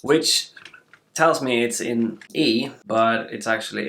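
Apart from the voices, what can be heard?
No everyday noise stands out behind the speech.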